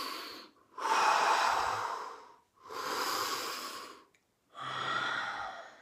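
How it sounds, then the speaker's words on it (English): Fast, deep breaths drawn during a breathing exercise, three long, loud inhale-exhale bursts in steady rhythm, close to the microphone, with short silent gaps and no talking. "I'm doing 30 deep breaths"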